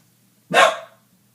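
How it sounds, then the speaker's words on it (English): A dog gives a single sharp, loud bark nearby in an apartment, with quiet before and after. "Sorry guys, that's my dogs."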